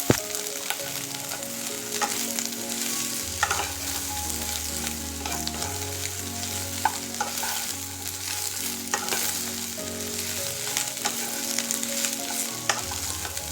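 Long thin carrot strips stir-fry in a pan for vegetable chowmein, with a soft steady sizzle and repeated scraping stirs, fairly quiet and close, no voices.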